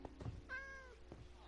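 A cat in a video game gives a short single meow, clear and close against a quiet background with a few soft thumps around it.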